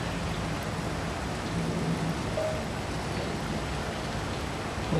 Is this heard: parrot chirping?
no